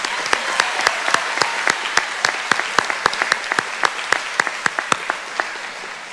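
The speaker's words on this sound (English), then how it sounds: "Let's give these students a round of applause" Audience applause for honored students at a high school honors ceremony, with many sharp individual claps standing out in a steady, moderately loud rhythm over a bed of wider clapping.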